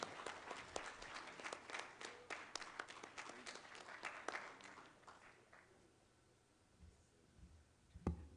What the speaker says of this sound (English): A round of applause to OSS.